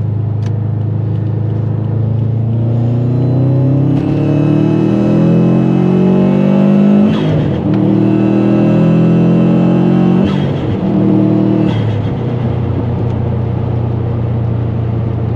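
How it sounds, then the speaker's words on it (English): A tuned Subaru WRX STI with full bolt-ons and a dyno tune pulls hard while merging onto a highway, its engine loud and close, revving up through gears with rising whine and brief dips at each shift, no talking. "Do another pull here, merging onto the highway."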